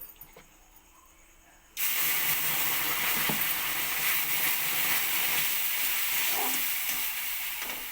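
Water poured into semolina in a hot pan sets off a sudden loud hiss that holds steady and close for several seconds before slowly easing.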